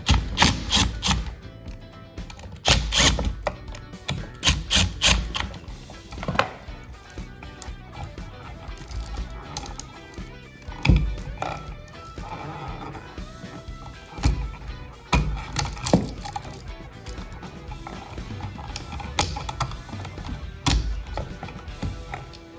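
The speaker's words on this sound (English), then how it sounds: "take all the wires off, unscrew the screws on everything" Screws being unscrewed and wires pulled off an electrical receptacle: small ratcheting clicks, scraping and tapping in uneven bursts, close up and fairly faint, with little talking.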